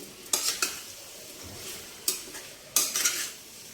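Pieces of mutton and ridge gourd fry in a pan with a soft constant sizzle. A utensil stirs and scrapes in several sharp bursts, a few seconds apart.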